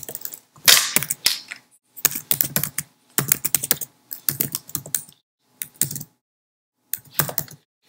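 Close, crisp clatter of a computer keyboard as login credentials are typed, with bursts of rapid keystrokes broken by brief pauses, no voices.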